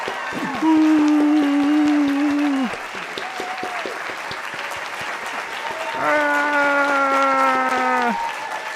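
Audience applause for candidates at a vice presidential debate, two bursts of clapping under strong tonal music and a voice, the first swell lasting about two seconds, the second rising near the end.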